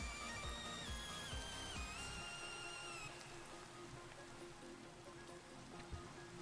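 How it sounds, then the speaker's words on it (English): Rain falling in the video game Minecraft, a faint steady patter of drops running throughout, with a tonal musical layer fading out in the first few seconds. "Is it still raining?"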